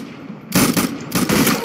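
Gunfire in the Roblox game Arsenal, two loud bursts of rapid automatic shots, each about half a second long, separated by a short gap.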